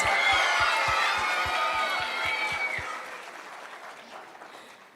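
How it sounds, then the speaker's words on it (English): Families at The Academy Charter School in Uniondale applaud at a 5th grade graduation, a crowd clapping with some cheering over a row of steady low thumps. The applause gradually fades away. "Round of applause."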